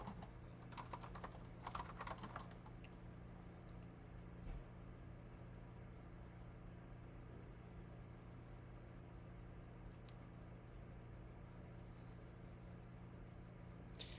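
Keys clatter on a computer keyboard during a coding session, a quick cluster of close taps early on, then sparse faint keystrokes over a quiet room hum.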